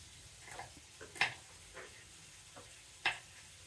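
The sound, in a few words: pav frying in a pan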